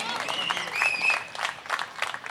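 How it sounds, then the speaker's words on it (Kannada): An audience at a Karnataka Rajyotsava celebration evening bursts into applause, a dense, steady patter of clapping with a thin high whistle-like tone rising briefly over it. "ಅವ್ರುಗಳಿಗೆ ದೊಡ್ಡ ಚಪ್ಪಾಳೆ ದಯವಿಟ್ಟು ಬರಲಿ"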